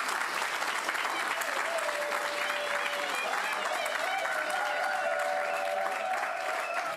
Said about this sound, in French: nous applaudissons le Seigneur pour Gaston.